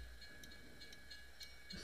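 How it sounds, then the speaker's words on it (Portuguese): A train passing a level crossing in the truck-driving game Euro Truck Simulator 2, heard as a steady, faint rumbling wash with light rhythmic clatter, continuous and distant under the game ambience. "Vai vir trem, mano."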